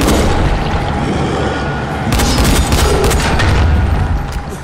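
Gunfire in the video game Dying Light: The Following, a dense barrage of booming shots fired without pause for a few seconds, loud and continuous.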